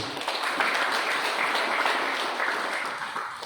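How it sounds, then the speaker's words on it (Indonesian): Church congregation applauding a retiring member during a pastoral assignment ceremony, a loud, full burst of clapping that holds steady and slowly eases off toward the end. "Berikan tepuk tangan dulu."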